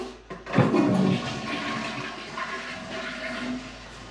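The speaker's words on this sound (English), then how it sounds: "Okay, we flush the toilets." A toilet flushes in an abandoned property's bathroom where the drain has been backing up into the bathtub, a loud rushing surge followed by steady swirling water draining and refilling.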